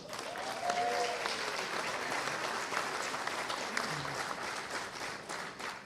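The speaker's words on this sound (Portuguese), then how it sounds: "Eu ia pedir uma salva de palmas a este patriota imortal, mas vocês já responderam por mim." An audience at a political rally at the Clube de Engenharia in Rio de Janeiro claps in sustained, dense applause that swells and slowly tapers, with a voice briefly audible beneath it.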